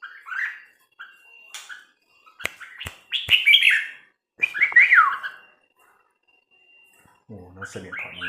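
Jungle fowl call in a few short bursts of chirping, squawking notes with brief gaps, fairly close and clear, followed by a softer low rumble at the end.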